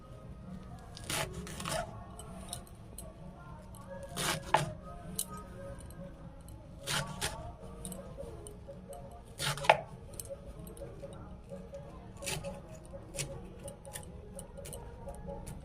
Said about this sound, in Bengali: এবার এটা আমি কেটে নেবো ঝিরি ঝিরি করে।